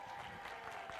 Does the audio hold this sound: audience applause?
yes